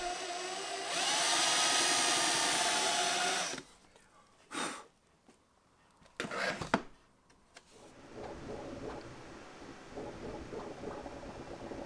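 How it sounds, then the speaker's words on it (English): A power drill whines steadily for a few seconds while boring a 1/2-inch hole with a Forstner bit, then stops; brief clunks and handling noises follow, then a low hum. "drill a 1/2-inch hole with a Forstner bit on the inside"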